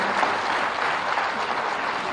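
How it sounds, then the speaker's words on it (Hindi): Auditorium audience applause at a ceremony, dense and even clapping from a large crowd, sustained at a constant level for the full stretch without speech over it. "एक बार मस्त तालियां सभागार में दी जाती है"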